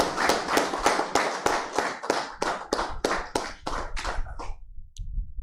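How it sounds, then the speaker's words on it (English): An audience at an agricultural training closing ceremony applauds in steady rhythmic claps, fairly close, that carry on for about four seconds before dying out, followed by quiet room tone. "Let's give all the participants a round of applause."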